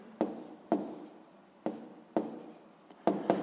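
Pen or pencil strokes on paper while working a sixth-grade maths problem, sharp scratchy taps in uneven bursts of five or six, close and fairly quiet with no talking.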